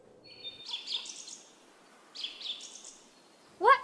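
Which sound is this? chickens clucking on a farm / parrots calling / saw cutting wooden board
parrots calling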